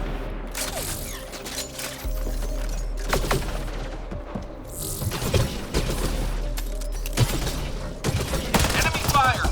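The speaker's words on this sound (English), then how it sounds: "Enemy fire, careful." Enemy gunfire in Mass Effect Andromeda comes as rapid bursts of shots and heavy impacts over a low rumble, fairly close and persistent, with scattered mechanical clanks and some speech underneath.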